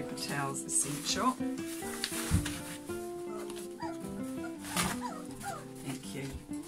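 Young Borzoi puppies whimper and yip at feeding time in an enclosed pen, their thin cries scattered over background music, with faint clattering and shuffling around them.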